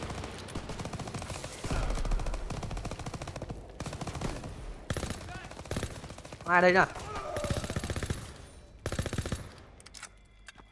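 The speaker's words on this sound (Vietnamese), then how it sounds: "Súng bắn nghe khá đã tay." Bursts of automatic gunfire from Call of Duty: WWII rattle through busy game noise, with a short spoken remark layered over the action.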